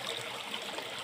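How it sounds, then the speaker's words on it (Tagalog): A river flows nearby in a forest setting, a soft continuous trickling and bubbling of water, fairly quiet with no voices. "Ito po ang ilog sa amin mga kababayan."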